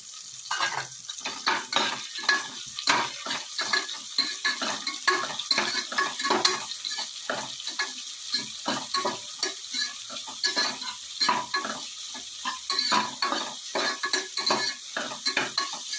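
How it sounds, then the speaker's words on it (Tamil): Chopped onion with four green chilies sautéing in a pan for a vegetable pulao, a steady sizzle broken by frequent scraping stirs throughout, close and fairly loud, with no talking. "வெங்காயம் வந்து நல்லா பொன்னிறமா வதங்க வரை வெயிட் பண்ணலாம்"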